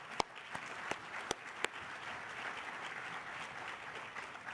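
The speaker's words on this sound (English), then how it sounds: "So let's give them a round of applause." Audience applause at a talk, a soft, steady wash of many hands at a moderate distance, with a few louder, sharper claps standing out near the start.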